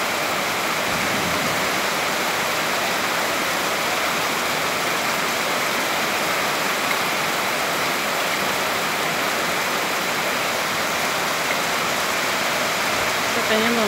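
Heavy rain at a ranch, with streams of water pouring off the roof, forms a dense, unbroken roar of falling water that stays loud and even from start to finish.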